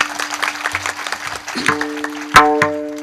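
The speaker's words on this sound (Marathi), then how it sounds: "वारकरी मंडळीसाठी जोरदार टाळी वाजवा" An audience claps for a group of varkaris at a kirtan gathering, a brief burst of claps over a sustained musical tone, ending in a few louder claps.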